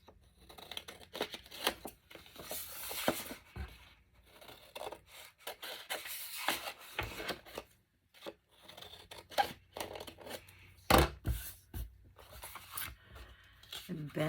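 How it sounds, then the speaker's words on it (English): Scissors snip the corners of paper for a Nutcracker-themed craft journal, a series of close, crisp cuts and rustling handling sounds scattered over about fourteen seconds, with quiet talk mixed in. "And then I will cut the corners."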